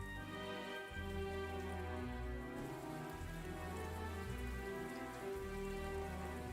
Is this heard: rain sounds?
yes